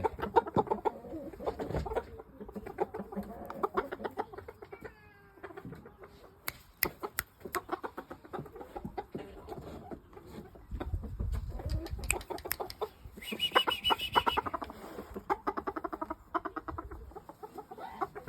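Shamo chickens, including imported German stock, cluck and call in a UK game-bird yard, with repeated close clucks, sharp bursts and scattered squawks over a quiet farmyard background.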